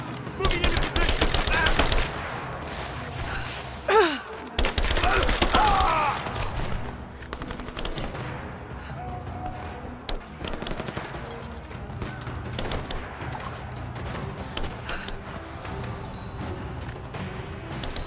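Bursts of suppressing gunfire in Rise of the Tomb Raider in the Geothermal Valley, with dense rapid automatic fire at first that thins to scattered shots under faint background voices.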